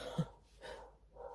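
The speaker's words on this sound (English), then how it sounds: "that's a dog outside" A dog barks outdoors, heard faint and distant as one short bark followed by soft muffled sounds in a quiet room.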